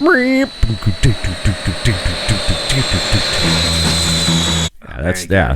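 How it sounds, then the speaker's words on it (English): Jet airliner engine whine opening the Beatles' Back in the USSR, a steady high roar with a held whistling tone that cuts off abruptly near the end, with rhythmic voice-like pulses and talk over it. "It's a jet airliner."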